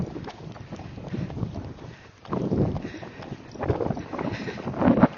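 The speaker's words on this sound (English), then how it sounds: "It's very windy, so I know you might not be able to hear me." Strong wind buffets the microphone in loud, rumbling gusts that rise and fall, outdoors during horse riding, with no voices heard.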